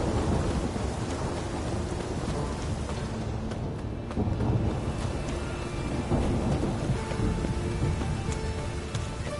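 Heavy rain pours steadily with deep rolling thunder rumbling throughout in The Witcher video game, a dense, loud storm with no voices.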